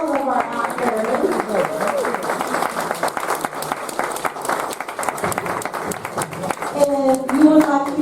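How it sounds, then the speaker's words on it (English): Audience applause for the actors of an amateur drama group after a stage performance, brisk clapping from a modest crowd with voices talking and calling out over it. "Let's give another round of applause for all of our actors."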